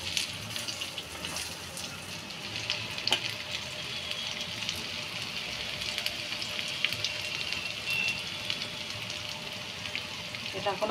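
Jute leaf fritters (bora) frying in hot oil, a steady close sizzle with crackling bursts that runs continuously for the whole stretch, with no one talking.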